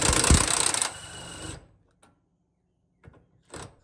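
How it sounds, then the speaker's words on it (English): A wrench working the body bolts loose on a 1996 Ford Bronco makes a loud rattling mechanical burst for about a second and a half. A few quieter clinks follow after a short pause. "I have my assistant holding the wrench here to get the body bolts off."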